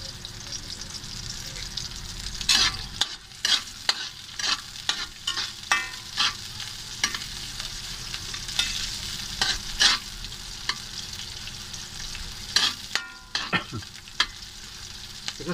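Onions fry in hot oil left over from frying eggplant, a continuous sizzle punctuated by brisk, irregular scrapes and clanks of a spatula stirring the pan.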